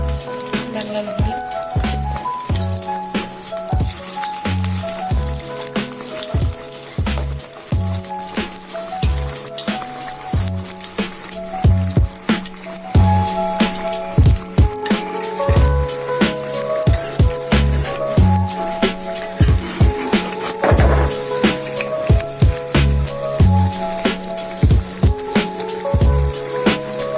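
Drumstick flower pakora frying in hot oil, a loud, steady sizzle and crackle with irregular pops and bubbling running throughout, close up and continuous.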